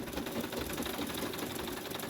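A sewing machine stitches fabric for a V-shaped autogele base, running continuously with a fast, even mechanical rattle close by and no pauses.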